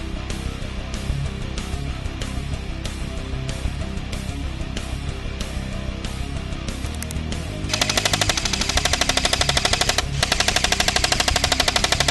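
An airsoft gun fires a long string of rapid shots at a can of Shasta root beer, sharp regular snaps that speed up into a dense, louder burst toward the end, with no talking.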